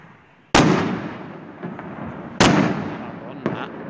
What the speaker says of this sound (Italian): Madonna, colpi di fucile